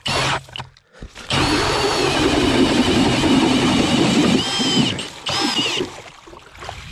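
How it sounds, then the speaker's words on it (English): An Eskimo Pistol Bit 8 ice auger bores a hole through frozen ice, a steady, close grinding whine that starts after a brief quiet, runs for several seconds, dips briefly near the end, then resumes. "And I'm going to drill a third hole."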